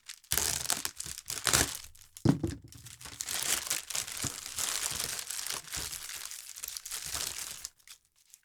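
A sealed plastic bag holding a two-piece Dragon Ball Z figure is cut and pulled open, giving close, loud crinkling and rustling with a brief sharp snip partway through.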